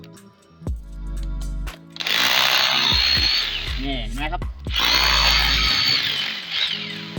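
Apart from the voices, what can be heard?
hammer drill drilling into concrete in hammer mode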